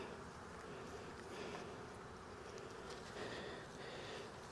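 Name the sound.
honey bees buzzing on top of an open hive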